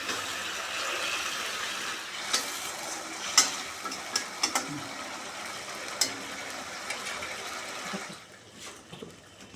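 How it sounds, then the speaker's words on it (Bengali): Pieces of rohu fish simmering in a boiling gravy for a poppy seed curry, a soft steady bubbling hiss with a few brief clinks and stirring knocks, near and fairly quiet, the sound dropping off near the end. "ঝোল ফুটে গেছে এবার মাছগুলো দিয়ে দেবো"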